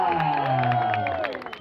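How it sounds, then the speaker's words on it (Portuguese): A crowd at a surf contest awards ceremony claps and cheers, the noise mixed with voices and a loudspeaker, lively and fairly close throughout. "Eu peço uma salva de palmas para Pablo Gabriel Silva."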